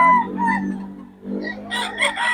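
A rooster crows close by at a Bocaue tiangge market with chickens for sale, its harmonic call rising and falling, followed by a second bird's higher, brighter crow overlapping.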